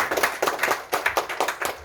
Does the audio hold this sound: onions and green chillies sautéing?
no